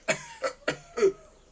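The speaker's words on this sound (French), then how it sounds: "laissez-moi tousser" A person coughs four times in quick succession, each burst sharp and close with brief pauses between, with no talking alongside.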